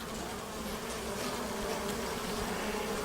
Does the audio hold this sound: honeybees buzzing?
yes